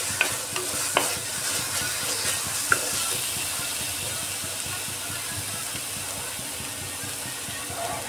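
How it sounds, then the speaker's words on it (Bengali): Onions sizzle and fry with ginger garlic paste in a pan, a steady close hiss broken by a few sharp clicks of a spoon stirring against the metal, with no voices. "এই জিঞ্জার গার্লিক পেস্টটা দিয়ে একটু ভালো করে"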